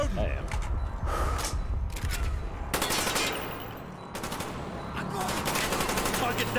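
Dense bursts of automatic gunfire and rapid shots in the video game Call of Duty: Black Ops, loud and continuous with brief lulls, mixed with shouted game dialogue.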